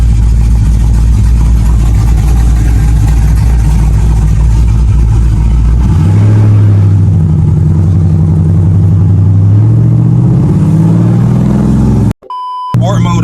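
An aftermarket cammed and tuned SRT car engine loping with a choppy idle, then the tone deepens into a heavier rumbling drone as the car moves off, loud and close, ending in an abrupt electronic chirp.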